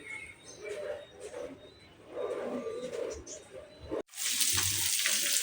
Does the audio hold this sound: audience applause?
no